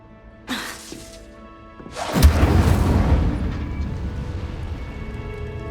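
Incendio fire spells are cast in Hogwarts Legacy: a short whoosh, then a loud fiery burst that roars and crackles before trailing into a long rumbling decay, close and alone.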